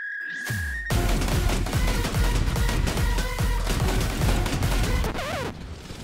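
Rapid bursts of 40mm autocannon fire from a Stridsfordon 90C in the War Thunder video game, loud, close and continuous, with heavy thumping shots repeating for several seconds.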